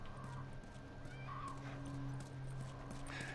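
A horse in the video game The Last of Us Part II snorts and whinnies over steady hoof clopping, close and continuous against a low droning game ambience, with no one talking.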